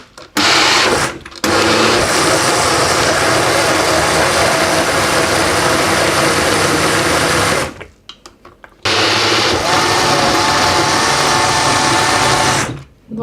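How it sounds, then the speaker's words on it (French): A food processor grinds almonds in loud, continuous bursts, running steadily for several seconds, stopping briefly, then starting again with the same dense whirring roar. "Alors, je vais d'abord commencer à mixer."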